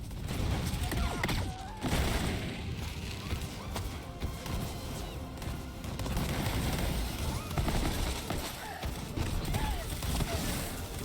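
Gunfire in the shooter video game Borderlands 3: dense, continuous bursts of weapon fire mixed with impacts and clanking mechanisms, sustained at high intensity throughout.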